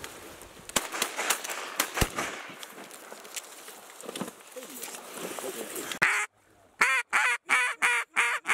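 Mallard ducks quack during a waterfowl hunt in Iowa. Shotgun blasts and hunters' voices come first, then a run of loud, close, rhythmic quacks near the end.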